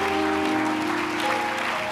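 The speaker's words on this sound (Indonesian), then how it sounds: "Boleh tepuk tangan yang keras buat Tuhan Yesus." Loud, dense applause from a church congregation during a service, clapping hands steadily without a break.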